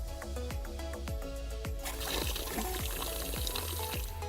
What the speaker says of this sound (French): l'eau qui sort